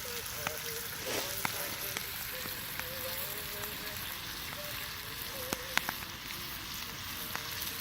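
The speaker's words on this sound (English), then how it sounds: "Fry up some bacon." Bacon fries in a pan at a bushcraft campsite outdoors, producing a continuous low crackling sizzle with scattered sharp pops and spits throughout.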